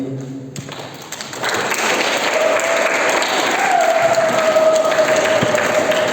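Audience applause after a storytelling performance at an English performances event, starting from a quieter opening and swelling into a loud, steady burst of clapping from a crowd that carries on to the end.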